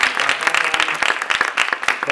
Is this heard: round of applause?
yes